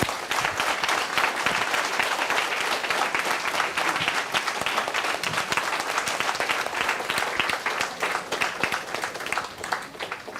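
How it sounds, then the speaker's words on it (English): An audience at a state-level panel discussion competition breaks into sustained applause, a dense, steady clapping that fills the room for the whole stretch before thinning slightly at the end. "A big applause, please."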